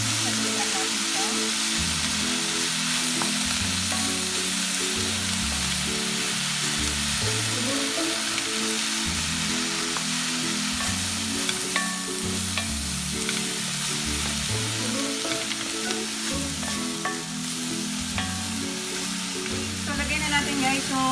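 Ginataang langka with crabs being stirred in a pan, fresh jackfruit sizzling steadily with scraping stir strokes over continuous frying, under background music.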